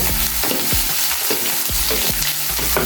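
Chicken frying together with leek, red onion, carrot and garlic for chicken cacciatore, a loud continuous sizzle broken by regular utensil scrapes and stirring knocks, close up with no talk.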